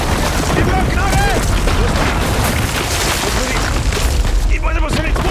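Dense, loud gunfire and explosions from the video game Uncharted 4, with booming shots layered over constant game noise while people talk excitedly over it.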